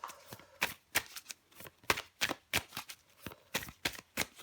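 Tarot cards being shuffled by hand in a series of crisp riffling bursts, roughly a dozen quick flutters in an uneven rhythm, close and clear with no voices.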